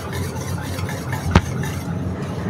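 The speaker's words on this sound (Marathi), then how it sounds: "तोपर्यंत हे अंडी फेटून घ्यायची" Eggs whisked in a bowl for anda bhurji, a steady scraping stir that runs throughout, with one sharp clink of utensil on the bowl partway through.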